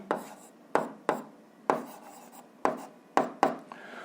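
Pen or pencil writing on paper: seven or so sharp, scratchy strokes spaced irregularly, each with a brief rasping tail, close and quiet with no voices.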